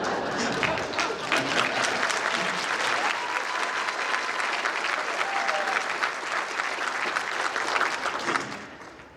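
An audience at an MLK Jr. Unity Breakfast applauds for several seconds, dense steady clapping that fades out at the end, with faint voices mixed in.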